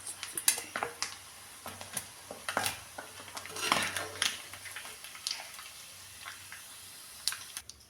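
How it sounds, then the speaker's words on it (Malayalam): Fried sardines for a pickle are scooped out of a pan into a pot, giving irregular metal clinks, scrapes and knocks of a spoon against cookware, close by and fairly quiet. "അപ്പോൾ നമുക്കൊന്ന് ഒരു വെള്ളയപ്പില്ലാത്ത പാത്രത്തിൽ കോരി മാറ്റാം"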